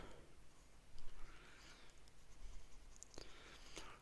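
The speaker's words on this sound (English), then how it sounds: "The next pen is a TWSBI VAC 700R. Now we'll do another ink swatch here." A TWSBI VAC 700R fountain pen nib scratches and glides across paper while laying down an ink swatch, with soft, close, faint strokes and a few brief ticks near the end.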